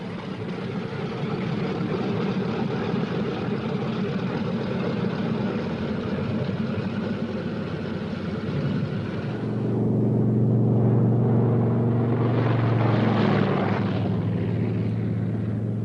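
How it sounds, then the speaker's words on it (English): A radio-controlled drone B-17 Flying Fortress bomber taking off, its piston engines and propellers droning steadily and loudly throughout, then swelling into a heavier, deeper roar partway through as it gets underway. "A converted drone B-17, much modified and completely radio-controlled from the ground, takes off."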